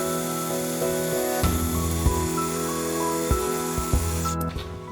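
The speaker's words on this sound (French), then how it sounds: "Je viens pétrir au robot. Si vous avez un robot pétrisseur, c'est bien." A food processor fitted with a plastic kneading blade works vegan dough, giving a steady, loud motor hum with low thumps and knocks as the dough mass tumbles, running continuously throughout.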